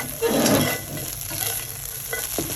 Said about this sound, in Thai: เขาต้องผัดข้าวให้แห้งนะคะ เอาข้าว กับไข่ผัดให้แห้ง